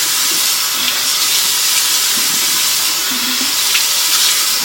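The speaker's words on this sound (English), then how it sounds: "in the morning, I actually just literally rinse my face with cold water." Cold tap water runs steadily into a bathroom sink while a face is rinsed in the morning, a close, continuous hiss and splash with faint, irregular splashing from the hands and no talking.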